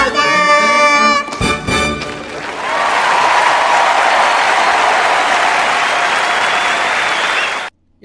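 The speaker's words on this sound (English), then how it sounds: "listen to that applause" A large crowd breaks into loud, sustained applause that swells and holds steady, following a short stretch of tonal music and a few thumps at the start.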